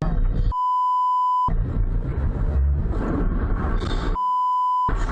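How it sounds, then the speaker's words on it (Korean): A steady high-pitched censor bleep tone sounds twice, each about a second long, cutting into muffled rough, angry talk during a road-rage incident and background rumble. "삐 소리밖에 안 나네요."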